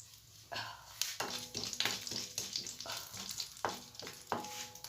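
Mustard seeds and urad dal fry in about a teaspoon of oil for broad bean porial, sizzling steadily with sharp crackling pops scattered throughout, close and fairly quiet.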